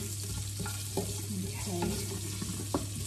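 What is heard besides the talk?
spices sizzling in a pan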